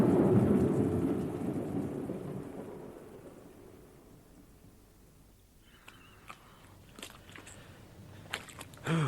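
A thunderstorm with steady rain and a rolling rumble of thunder that fades out, followed by scattered drips and small knocks, heard alone without voices.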